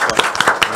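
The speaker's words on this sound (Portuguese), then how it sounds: "Uma salva de palmas, então, né?" A short burst of hand clapping follows a call for applause at a Brazilian sports program, several quick claps sounding close and sharp.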